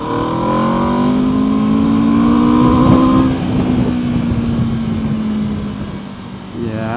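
A 2024 Aprilia RSV4 Factory 1100 motorcycle revs hard in first gear, its loud engine note climbing steadily for several seconds and then easing off, close to the listener.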